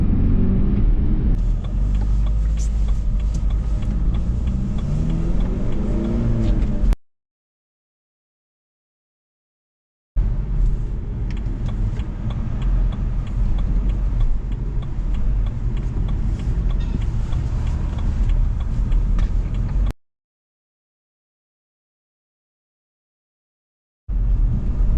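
A manual BMW being driven gives a loud, steady engine and road rumble close by, broken by two spells of complete silence before the drone resumes.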